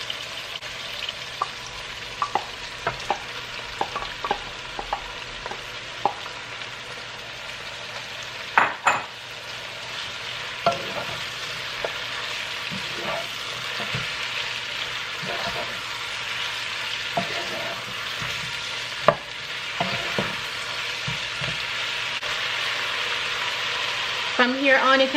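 Callaloo frying and being stirred in a pan while a large fish is prepared with pumpkin and callaloo: a steady sizzle runs throughout, with frequent spoon scrapes and clicks scattered across it.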